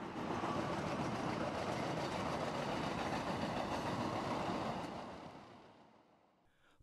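An elevated CTA train rumbles past overhead in Chicago, a loud, dense, steady roar with faint rail clatter that holds for several seconds before fading away as the train moves off.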